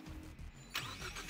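A 2013 Ford Fusion engine cranks and catches with a sudden surge partway through, then settles into a steady, fairly quiet idle close by.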